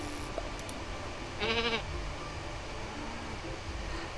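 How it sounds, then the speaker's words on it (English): A single short sheep bleat rises in the farming video game Staxel, moderately loud over a steady hiss of background noise, with no talk. "I just ended up with Albert the sheep and Elsie the cow"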